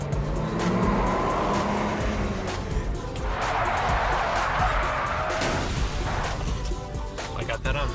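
A powerful car drifting as hard acceleration spins its tires and breaks traction: a loud engine roar with squealing, skidding tires that swells and fades over several seconds, with a voice speaking over it.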